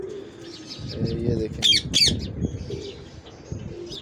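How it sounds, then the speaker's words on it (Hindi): A pigeon held in the hands gives a couple of short, bright calls and chirps, heard up close while someone talks over it in Hindi. "ये देखें जी दूसरा कबूतर आ गया"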